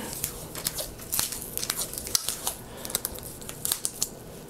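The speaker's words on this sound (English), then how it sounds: "I'm just going to un undo the top section of the bar tape here" Bicycle bar tape being peeled and unwound from the top of a handlebar during a SRAM Force 22 shifter overhaul, with a quick series of close crinkling, tearing rips and crackles.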